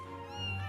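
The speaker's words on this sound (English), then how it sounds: "Kitties!" Cats meowing in the Final Fantasy XIV world, a steady, close mewing tone held for under a second with no talk over it.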